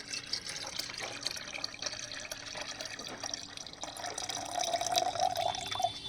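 Plain water pours into a plant fertiliser mixture as a steady splashing trickle, with faint drips, growing a little louder toward the end, and no voices.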